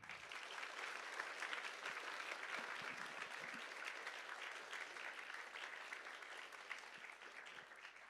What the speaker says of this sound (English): So big round of applause to all of them